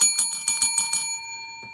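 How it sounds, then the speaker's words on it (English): Bright metallic bell rings out in a rapid string of about seven strikes, each with a sustained high tone, then the ringing decays and fades, followed by a faint soft tap. "press that ringing bell"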